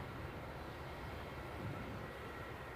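A jet airliner departing Edinburgh airport, heard as a faint, steady, distant rumble with no voices.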